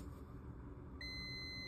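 A steady electronic multimeter continuity beep switches on partway through, testing a crimped battery cable, and holds as one continuous tone over low background rumble.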